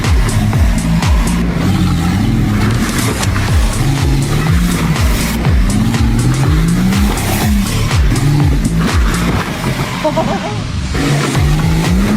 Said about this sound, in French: de faire du 2 roues avec une voiture. C'est-à-dire partir comme ça, la mettre sur le côté et continuer sur les 2 roues de gauche.